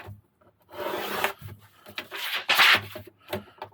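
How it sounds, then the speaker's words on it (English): Deburring the edges of a titanium foil firepit: bursts of scratchy rubbing and rasping, close and fairly quiet, coming in uneven strokes with short pauses and no talk. "that's just a little rub with that. Just gets off that burr."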